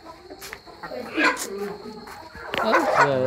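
Chickens and a rooster on a free-range hill farm cluck and call in short bursts, close by, mixed with people talking over them.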